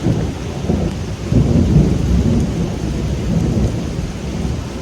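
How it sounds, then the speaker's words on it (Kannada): Steady rain with low rumbling thunder rolling underneath, a continuous dense wash of sound with swells of deeper rumble partway through. "ಹೊಸ ಮಳೆ ಅಲ್ವಾ"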